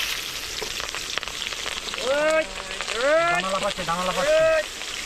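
Green chillies hit hot oil in a cooking pot at an outdoor fishing-trip meal, giving a steady, hissing sizzle throughout, while a voice rises over it in the second half.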